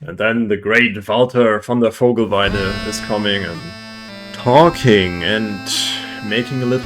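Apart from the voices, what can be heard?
No everyday noise stands out behind the speech.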